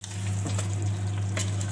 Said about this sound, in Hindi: बहुत अच्छे से इसकी भुनाई हो रही है